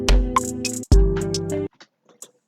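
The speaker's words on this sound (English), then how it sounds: "for the chorus, I added this hi-hat loop. I also downloaded from Looperman" A hi-hat loop from Looperman in an Afrobeat-style FL Studio beat, crisp ticking hits over a tonal melodic layer that plays for under two seconds and then drops to near silence.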